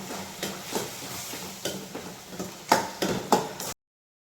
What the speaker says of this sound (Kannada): ಕಡಲೆ ಬೀಜ ಪೌಡ್ರ್ ಹಾಕ್ತಾಯಿದ್ದೀನಿ, ಮಿಕ್ಸ್ ಮಾಡ್ತೀನಿ.